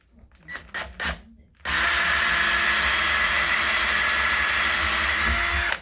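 A power drill whirs loudly and steadily for several seconds after a few brief clunks and handling noises, running close by without pause, while fitting an alcove wardrobe in a loft room.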